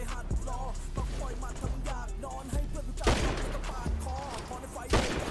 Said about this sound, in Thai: ปืนลายใหม่ครับ มันยิงแล้วมันเบิ้ลน่ะ